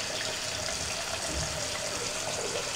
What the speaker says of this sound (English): so I'll continue to put, you know, warm water in